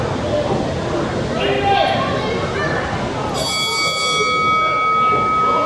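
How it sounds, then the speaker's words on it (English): A bell rings at a professional wrestling match at an XIW event, sounding a bright, sustained ding late in the clip over a constant rumble of crowd noise in the arena. "And that bell goes ding"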